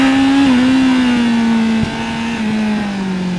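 A car engine drones close and loud, holding a steady tone with a slight dip partway as the car powers out of a sharp corner on a test run after a suspension setup, with no voices.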